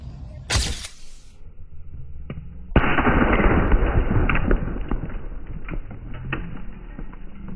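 A firecracker set off in a home experiment goes off with a sudden loud blast after a brief earlier pop, then several seconds of crackling, hissing noise follow, near and loud.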